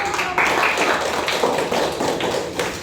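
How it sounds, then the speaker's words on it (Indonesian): Broad, dense clapping fills the whole short stretch at a steady level, with no voices over it. It comes from a group at a school guidance counseling training session. "Oke, kasih tepuk tangan."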